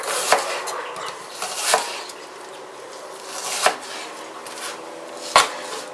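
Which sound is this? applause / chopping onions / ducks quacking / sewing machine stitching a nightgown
chopping onions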